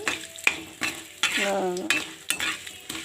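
Ajwain, urad dal, dried red chillies and curry leaves sizzling in hot oil as a tempering, with a spoon stirring and scraping the pan in irregular close bursts.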